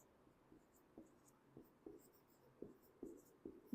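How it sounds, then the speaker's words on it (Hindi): Pen or marker writing on a board or paper during a Class 9 maths lesson on Euclid's geometry, heard as a steady series of short, soft scratching strokes roughly every half second, close and quiet, with no talking. "तो हम यहाँ पे लिखेंगे यस"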